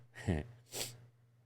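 A single sneeze, a sharp voiced intake followed by a breathy burst, close and fairly quiet.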